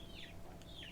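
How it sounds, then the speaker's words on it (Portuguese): A hen clucking near her chicks under a shed, with short rising chirps and calls repeating twice over a steady low background hum, fairly faint. "Note que tem uma galinha fazendo barulho aí junto com os pintinhos dela."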